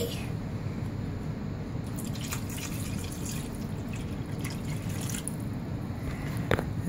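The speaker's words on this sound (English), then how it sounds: "I would pour in water." Water poured from a container into a bowl of cake mix, a steady soft trickle and drip running throughout at close range, with no talk.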